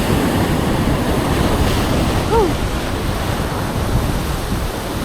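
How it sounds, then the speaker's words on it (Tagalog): Strong surf breaking along a beach shoreline at high tide, a steady loud wash of waves with gusting wind across the microphone, no talking. "Lakas yung alon dito sa gilid."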